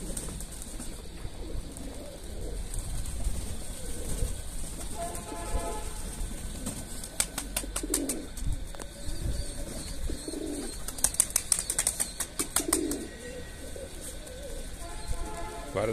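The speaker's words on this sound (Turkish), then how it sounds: "Evet kuş burayı sevdi arkadaşlar." Outdoors, a pigeon or dove gives soft repeated cooing. The calls are faint and sit under a steady background hiss, with a few sharp clicks in between.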